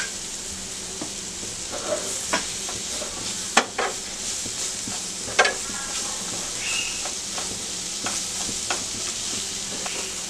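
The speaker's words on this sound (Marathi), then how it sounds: "6 बटन मशरूम्स घेतलेले आहेत, एकदम बारीक स्लाइस करून घेतले, ते सॉटे करून घेऊया।" Thinly sliced button mushrooms sauté in butter in a pan for a mushroom omelette, with a constant gentle sizzle and occasional sharp clicks and scrapes of stirring, close and moderately quiet.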